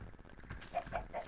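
A chicken in the Minecraft video game gives three short clucks in close succession, fairly faint over a dull rumble of game background noise.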